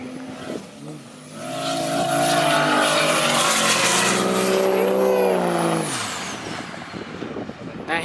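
A diesel race car roars past at an airport racing event, its engine rising in pitch and swelling loud as it nears, then dropping away sharply, with a high whine above it and voices faint in the background.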